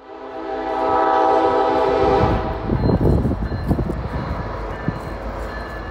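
A heavy freight train led by five locomotives on Northern Kentucky's Rathole Line sounds a long, loud harmonic horn blast, then the deep rumble and clatter of the passing consist rolls close by and continues after the horn ends.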